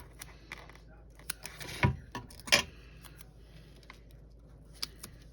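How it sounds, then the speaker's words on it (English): Scissors snipping off a folded-over piece of paper, two sharp crisp cuts close by with a few faint light ticks around them in a quiet room. "I'm going to snip that off."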